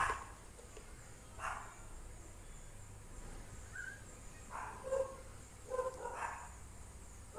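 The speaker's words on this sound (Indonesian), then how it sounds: "Maaf agak berisik, anjing saya gonggong." A dog barking somewhere nearby indoors, a few short separate barks spread over several seconds against a quiet background hum.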